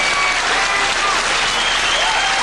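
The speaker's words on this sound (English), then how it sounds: "he's getting a big round of applause, Mark Jarvis is, for a gallant battle and a unbelievable try" An audience at a pool championship applauds Mark Jarvis with dense, sustained clapping that stays loud and even throughout.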